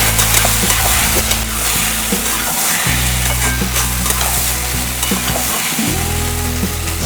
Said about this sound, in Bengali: মুগটা আমার 2 মিনিট ভাজা হয়ে গেছে ভালো করে।